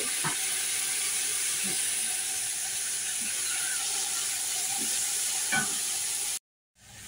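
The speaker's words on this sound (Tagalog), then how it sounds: "haluin natin na ito hanggang lumambot yung ating kamatis" Chopped tomato frying in a pan for fish biryani hisses in a steady, dense sizzle, with a few light scrapes from stirring before the sound cuts off abruptly.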